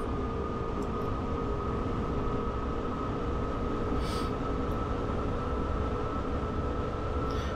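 A BR442 Talent 2 electric train in Train Simulator, on the Berlin–Leipzig route, accelerates hard under full power, giving a steady, loud rumbling drone with a constant whine and no speech over it.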